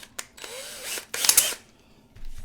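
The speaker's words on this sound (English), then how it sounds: "I'll just put them in the cordless drill," A cordless drill whirs in short bursts, spinning up with a rising whine twice, with clicks and scraping between the runs, close by.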